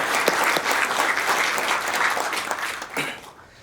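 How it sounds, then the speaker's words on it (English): An audience at a healthcare and AI talk applauds the volunteers with a dense round of clapping, individual claps standing out near the front before it thins and fades out. "So one big round of applause for the volunteers,"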